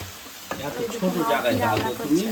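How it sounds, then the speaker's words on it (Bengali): Chicken sizzles in spiced masala in a small wok, a close, steady frying hiss with stirring scrapes, while people talk over it throughout. "এইবারে বাবা মশলাটা কষানোর পর চিকেনটা দিয়ে দিল"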